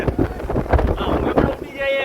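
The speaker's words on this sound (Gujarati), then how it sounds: "અત્યારે જોરદાર પવન ફૂંકાઈ રહ્યો છે" Strong wind roars and buffets against the microphone in steady gusts at Girnar, with a voice speaking underneath the rushing noise.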